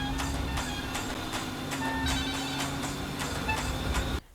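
A telephone rings repeatedly at a steady rhythm, each ring a bright tone that repeats for several seconds before cutting off abruptly at the end.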